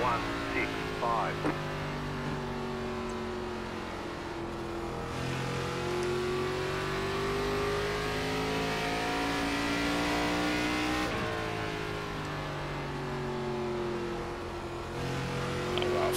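Several race cars in a close pack at Richmond Raceway in the iRacing sim, with sustained engine drone whose pitch sweeps up and down through corners and straights. A commentator talks over it throughout.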